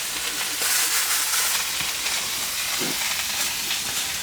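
Meat sears in a hot pan to brown its outside before slow cooking for taquitos, a continuous close hiss and crackle of sizzling fat that holds steady throughout, with no talking.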